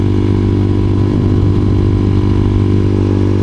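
A Honda CBR motorcycle engine runs steadily at a low, even rumble, close and loud with no talking.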